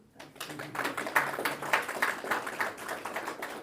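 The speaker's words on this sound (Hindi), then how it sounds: "ताली तो बजाओ" Audience clapping after a call for applause during a spiritual class talk at Mount Abu, a fairly steady patter of many hands rising within a second and holding at moderate level, heard from across a hall with no speech over it.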